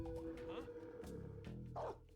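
Guard dog in Metal Gear Solid 3, the stealth video game, giving a couple of short barks under a person talking, set against steady game background noise.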